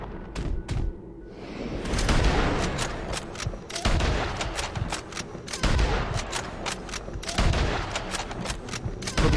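Repeated Springfield rifle shots ring out in a Red Dead Redemption 2 firefight, sharp cracks spaced every second or two amid other gunfire and rumbling echoes, loud and close.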